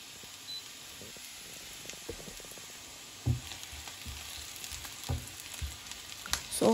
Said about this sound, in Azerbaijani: Doğradığım soğanları tavaya əlavə edirəm və qarışdırıram.